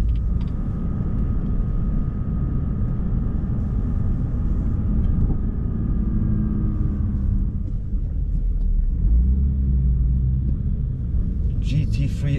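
A BMW M2 laps the Nurburgring, heard as a continuous low road-and-engine rumble from inside the car that holds steady throughout with no clear speech over it.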